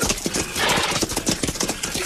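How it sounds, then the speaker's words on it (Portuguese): Horses' hooves clop in a steady, busy rhythm with occasional neighing, close and fairly loud in a camp setting by a river, with faint background noise. "Levem os cavalos para o rio. Estão cansados."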